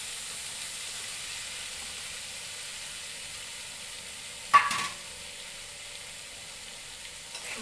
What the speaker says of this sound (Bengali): এখন আমি ছেড়ে দিব পনিরগুলো।